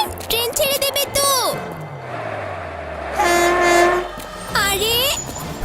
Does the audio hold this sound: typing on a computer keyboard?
no